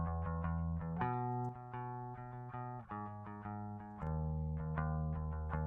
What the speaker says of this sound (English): Here, bass guitar.